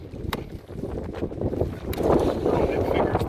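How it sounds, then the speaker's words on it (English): Wind gusting outdoors at a 100-yard rifle range, a steady broadband rush that builds and grows louder over a few seconds, with a brief sharp tick near the start. "Oh, it figures the wind just picks up."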